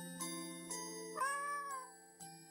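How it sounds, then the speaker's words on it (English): A cat meows in the video game Misao, 2024 HD remaster: several tonal cries over a steady musical backdrop, one longer drawn-out meow in the middle, fairly close and clear with no talking. "A cat?"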